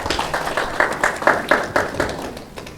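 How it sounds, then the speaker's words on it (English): Sparse hand clapping from a small audience at a ranch coaching summit, a handful of distinct claps in an uneven rhythm that thins out toward the end, fairly close and moderately loud. "if you don't mind giving them a applause"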